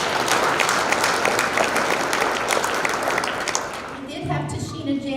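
Dense applause from a banquet crowd at a Round Valley High School scholarship event, cheering a scholarship recipient; sustained loud clapping that fades out near the end as a voice begins.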